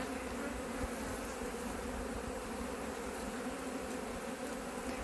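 Honeybees swarm around an open hive during an inspection, a thick unbroken drone of buzzing that stays close and even throughout.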